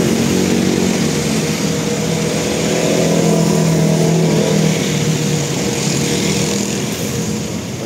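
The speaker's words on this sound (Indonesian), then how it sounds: "nah ini dia bintang Timur ke Palopo ya sleeper bus" A Bintang Timur sleeper bus bound for Palopo rumbles loud and close at a bus agency on a Makassar street, its engine holding a steady, unbroken drone throughout.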